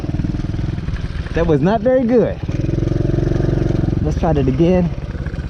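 DB14 dirt bike engine idling with two sharp throttle revs rising and falling, close and loud, while someone speaks briefly over it.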